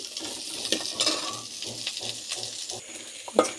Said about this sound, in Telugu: నేనైతే ఈయన ఇట్లా నూనెలో మగ్గబెట్టి ఇది ఇలా బాగా వేయిస్తాను